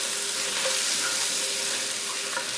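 Butter melting into sausage grease in a hot frying pan, a steady bright sizzle with small crackles and pops, close and loud from start to finish.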